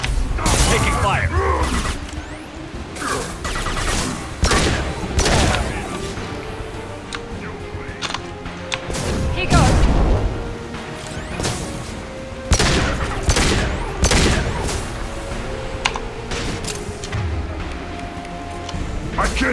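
Mass Effect 2 combat erupts in rapid bursts of gunfire and mechanical clatter, loud sharp volleys recurring throughout amid chaotic battle noise, with occasional voices mixed in.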